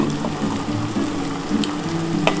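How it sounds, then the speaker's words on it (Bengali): Ground spice paste of tomato and green chilli with a splash of water hitting a hot pan for a mutton and potato curry, giving a steady close sizzle and bubbling hiss with a few sharper crackles. "আমি মশলাটা দিয়ে দিলাম, এর মধ্যে সামান্য অল্প একটু জল দিয়ে ঢেলে দেবো"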